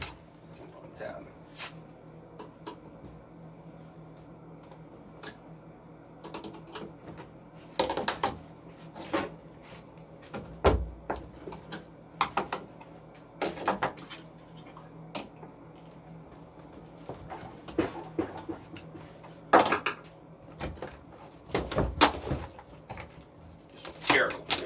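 Cardboard shipping box holding a Vevor 2x82 belt grinder being pried and torn open by hand, with scattered sharp snaps, tape pulls and rustling bursts close by over a low steady hum, while someone talks intermittently.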